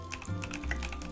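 A brief burst of rapid typing on a loud computer keyboard, close-up clicks tumbling quickly one after another with no voices.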